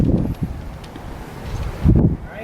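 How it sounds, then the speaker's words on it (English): Outdoor wind buffets a nearby microphone in low rumbling gusts, strongest at the start and again toward the end of this short stretch. "there's a little bit of wind outside"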